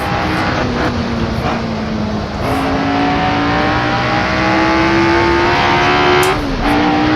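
Race car engine in Assetto Corsa on a damp, rain-soaked circuit, droning steadily and loud, with engine pitch stepping down as it shifts to a lower gear and then gradually climbing again, under a constant wash of rain and road noise.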